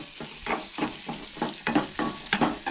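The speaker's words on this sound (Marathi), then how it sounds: "हलकेशे अशे परसून घेऊक जाय, चड करपूंक जायना." Red amaranth leaves are sautéed in a pan, giving a close, steady sizzle with rhythmic stirring strokes about twice a second.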